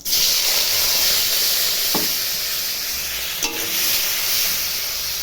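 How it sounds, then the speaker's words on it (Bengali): Loud, continuous sizzling of singi (stinging catfish) frying in oil, close up, with a couple of brief clinks from a utensil and no talking. "শিঙি মাছটাও ভেজে নিচ্ছি"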